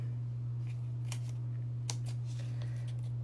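Scissors snip through card for a handmade birthday card in a few quick, faint cuts over a steady low electrical hum, with no talking.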